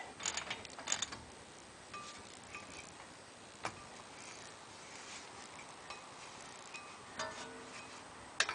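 Faint ratcheting and metallic clicking from a wrench tightening the front wheel bearing nut on a 2001 Ford Ranger, close but quiet over a steady hiss, with occasional sharper ticks and no speech.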